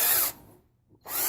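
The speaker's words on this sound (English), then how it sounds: "you'll take your drill and you'll drill into this" A power drill bores into a UCO lantern oil insert, a loud whirring burst that cuts off abruptly, followed by a short silence and another close, steady spin-up.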